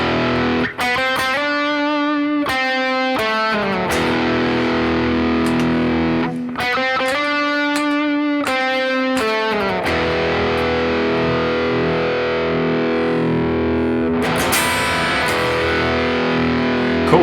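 A Pearson Hyper S headless electric guitar plays a driven, distorted tone: bursts of chopped chords and sustained ringing notes, loud and close throughout, ending on a fresh struck chord.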